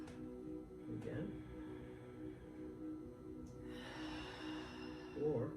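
A person breathes in and out slowly during a hands-on bodywork session, with a long hissing exhale partway through and faint voices and soft movement around it.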